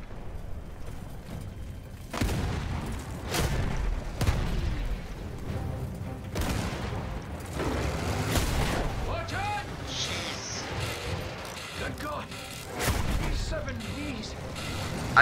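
Battlefield 1 gunfire cracks in repeated bursts and booms across a busy war soundscape, with shots and distant blasts scattered throughout and a voice talking over the action.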